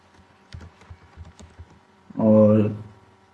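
Short text is typed on a computer keyboard while editing a caption in Visual Basic, a few soft, spaced key taps followed by someone speaking briefly.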